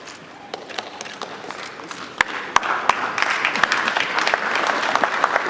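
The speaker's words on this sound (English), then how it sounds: "Let's give Southwest Engineering Private Limited a round of applause." Steady applause from a crowd, claps building slightly in intensity with a few louder sharp claps standing out.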